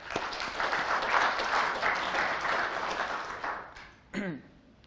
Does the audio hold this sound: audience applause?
yes